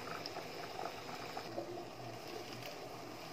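Water bubbling at a steady boil in a pot while asparagus and wild vegetables are blanched, a continuous low churning hiss with small pops, close and alone.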